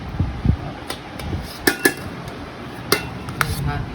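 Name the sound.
plates being set down and handled for serving rice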